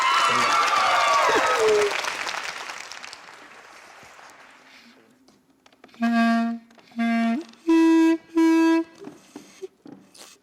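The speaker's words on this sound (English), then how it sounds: "Let's give him a massive round of applause." Loud audience applause for a clarinet player in a school setting fades away over about two seconds, then several sustained tonal blasts of clarinet-like notes follow.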